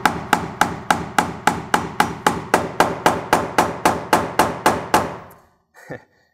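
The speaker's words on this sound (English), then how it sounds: "and get a nail in." A hammer drives a nail into a door frame near the strike plate: about sixteen sharp, evenly spaced blows ring out loud and close, then stop, followed by a brief faint shuffle.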